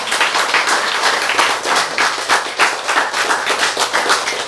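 An indoor lecture audience claps together in a brisk, dense burst of many hands that stays fairly even for several seconds, with no talking over it.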